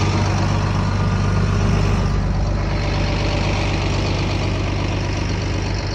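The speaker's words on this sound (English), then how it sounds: "down here I get to go outside and start the tractor" A tractor engine runs at a steady idle outdoors during a spring snowstorm in Wyoming, a loud low rumble that holds an even, unbroken throb throughout, with no voices.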